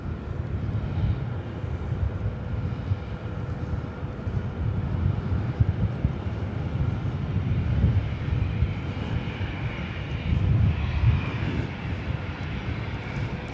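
An Air Canada Airbus A321 on flight 553 to Vancouver rumbles past with a low, steady engine drone and some wind buffeting, moderately distant, swelling slightly near the end.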